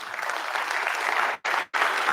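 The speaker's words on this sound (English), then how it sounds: "That you can applaud for." Dense audience applause at a city State of the City address fills the air steadily for over a second, then cuts out twice in brief gaps before the clapping resumes just as full.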